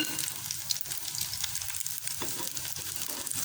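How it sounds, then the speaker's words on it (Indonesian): Homemade chicken-and-vegetable nuggets fry in hot oil with a dense, steady crackling sizzle, close and moderately quiet, with no talk over it. "kita goreng."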